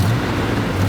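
An old cheap SUV's V8 engine runs loudly up close, a steady low rumble that holds constant through the brief moment without any voices.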